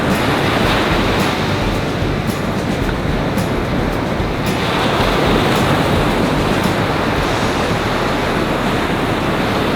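Beach surf washes continuously up the sand during fishing for bream, a steady broadband roar of breaking and surging waves close by, with no talk.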